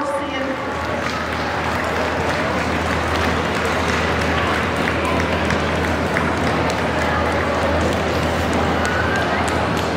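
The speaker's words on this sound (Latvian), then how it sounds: "Liels paldies Apenzēles Ganustuņa komandai ar aplausiem." Audience at a ZooExpo breed demonstration applauds the Appenzeller Sennenhund team, a dense, steady wash of clapping filling the hall throughout, with crowd noise underneath.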